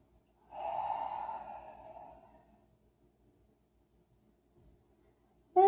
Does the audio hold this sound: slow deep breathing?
yes